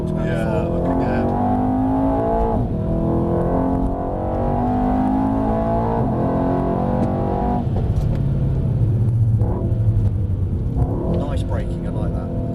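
A car accelerating hard on a driving track at Mercedes World, its engine note rising steadily under continuous instructor and driver talk.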